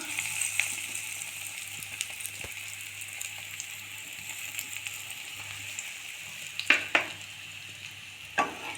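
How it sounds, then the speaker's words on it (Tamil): Bread pieces being toasted in hot oil in a pan for a bread chilli dish, a soft steady sizzle with occasional louder spattering pops near the end, no speech. "இப்போது எண்ணெய் காஞ்சதும் நம்ம எடுத்து வச்ச ப்ரெட்டெல்லாம் டோஸ்ட் பண்ணிக்கலாம்."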